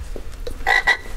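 A frog gives two short, raspy croaks in quick succession after a few faint clicks, fairly close.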